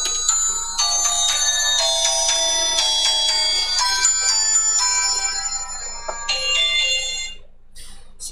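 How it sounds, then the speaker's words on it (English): A mobile phone plays a melodic electronic ringtone for several seconds, clear and steady, during a cooking stream making cod chowder, then cuts off abruptly with no speech. "That was my phone ringing."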